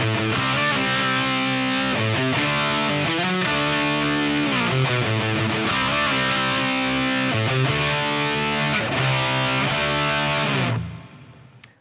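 An overdriven electric guitar plays a short rhythmic riff of chugging chords and moving notes, loud and close, ending on a fading ring.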